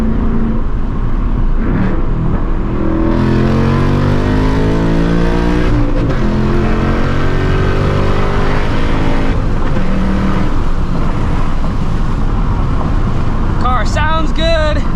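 A 2024 Ford Mustang GT S650 pulls hard from cruising on a feeder road, its engine note climbing in rising harmonic sweeps, with a shift break midway and people talking over it inside the car.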